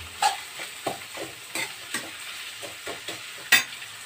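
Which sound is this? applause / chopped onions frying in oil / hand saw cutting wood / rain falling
chopped onions frying in oil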